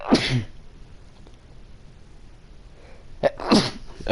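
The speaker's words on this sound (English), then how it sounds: "It was a double sneeze" Two sneezes from one person, close and loud, the first near the start and the second about three seconds later, with quiet room tone between.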